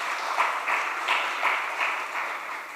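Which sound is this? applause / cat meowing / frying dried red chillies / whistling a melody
applause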